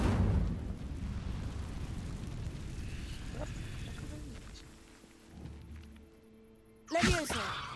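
A fire spell cast in Hogwarts Legacy, a single loud whooshing burst at the end after a stretch of rumbling game ambience.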